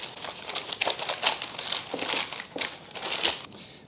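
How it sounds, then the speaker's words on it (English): Parchment paper crumpled into a ball and pressed into a pan, a steady stream of crisp crinkling and crackling bursts, close and fairly quiet, with no voices. "I find the easiest way to work with parchment is to first crumble it up"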